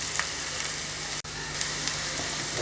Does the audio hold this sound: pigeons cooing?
no